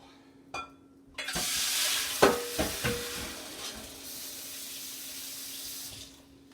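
Water runs from a tap into a pan, a steady rushing hiss with a few clanks and knocks of cookware partway through, close by and without talk.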